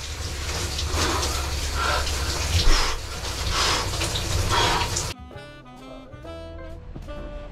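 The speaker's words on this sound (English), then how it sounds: "So I'm just gonna hop in a cold shower." Cold shower water runs in a steady, loud broadband gush for about five seconds, then cuts off abruptly, leaving quieter clinks and thin tonal sounds behind.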